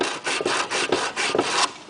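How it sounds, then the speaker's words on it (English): A hand file rasps steadily back and forth over freshly drilled holes to clear the burrs, with about seven even strokes that are loud and close and have no talk over them. "go over the holes, and we're just going to clean up from where the drill bit went through so that we don't have any"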